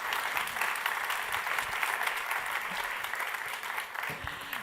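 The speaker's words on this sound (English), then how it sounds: "Let's give him a round of applause." Dense, steady applause from a conference audience at the Monaco Ocean Week innovation forum, a continuous wash of clapping holding level throughout without talk over it.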